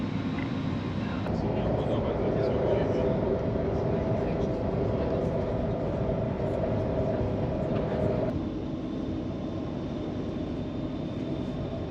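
A train departing and riding on a journey to Nuremberg, Germany, with a steady, loud rumble and hum of the carriage running continuously throughout, shifting slightly in tone partway through.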